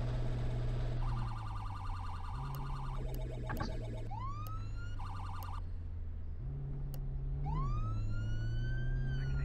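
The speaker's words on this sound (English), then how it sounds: "It's kind of a weird siren" A police siren wails and yelps close by, cycling through shifting electronic tones over a steady low engine drone, with no talking.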